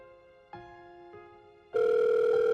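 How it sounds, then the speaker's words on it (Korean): A mobile phone call goes unanswered, with a faint tone first and then a loud, steady electronic ringback tone that holds near and clear to the end. "핸드폰이 신호만 가는 거예요."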